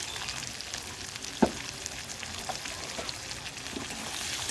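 Potatoes, onions and tomatoes sizzle quietly in a pan, a faint steady hiss with an occasional soft knock of stirring.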